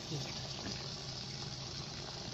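Food frying in a fryer, a dense, steady hiss and bubbling crackle that stays constant throughout at close range.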